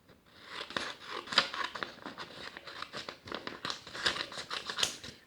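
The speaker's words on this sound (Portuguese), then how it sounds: "vamos dobrar uma folha, tá? Ao meio e ao meio novamente. E vamos cortar essas partes, ó." Scissors cut through a sheet of paper folded in half and then in half again, giving a quick series of close, crisp snips and paper crinkles with no speech.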